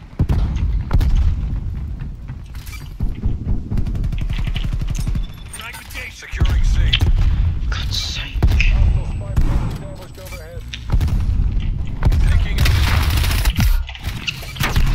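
Rapid automatic gunfire in a Call of Duty Black Ops Cold War beta match, dense bursts of shots and booms running nearly the whole time, loud and close, with a player talking over it.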